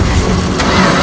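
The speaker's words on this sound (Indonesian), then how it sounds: "Jim tampak kesulitan menghidupkan mesin mobilnya" A car engine cranks and struggles to start. The churning is dense and loud, with a brief metallic click partway through.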